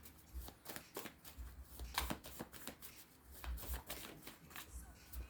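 Tarot cards shuffled and flicked down one after another in quick, crisp bursts of papery slaps and riffles, close and fairly quiet, with a voice talking intermittently alongside.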